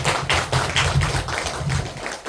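Audience applause rising at the close of a lecture at a women's committee education and discussion event, steady dense clapping from a nearby crowd that swells in waves and continues for the whole span without speech.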